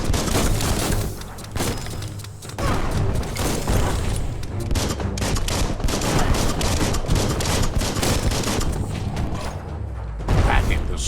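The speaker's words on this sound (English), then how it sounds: "That's a bomb lobber." Bomb lobber weapon firing in the Biomutant game, a dense run of loud booms and mechanical clatter packed close together, with a brief lull midway and a final burst.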